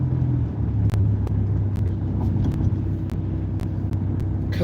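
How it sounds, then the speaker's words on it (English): Interior rumble of a car's engine and road noise as it accelerates to change lanes, steady low drone with a few brief clicks. "I'm going to make a lane change. I'm going to get up to speed."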